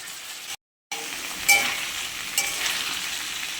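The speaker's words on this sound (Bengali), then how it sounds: "এবার দিয়ে দিচ্ছি রাঁধুনি আর আদা বাটা এটা দিয়েও কিছুক্ষণ সাঁতলে নেবো" Radhuni seeds and ginger paste sizzle steadily in a pan while cooking shukto, a constant frying hiss with a brief dropout near the start and a few stirring knocks.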